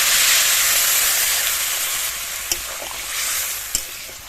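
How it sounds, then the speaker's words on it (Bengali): Kohlrabi frying in a pan with turmeric and salt gives a steady, fairly loud sizzle with broad hissing, broken by a few sharp clicks of stirring near the end. "লবণ আর হলুদ দিয়ে খানিকক্ষণ ভেজে নিয়েছি"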